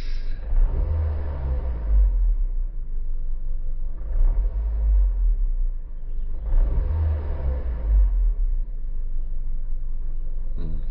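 A car engine idling at about 650 to 700 RPM is revved in three slow, swelling bursts, each dropping back to a deep, steady idle rumble. Loud and close, with no talking.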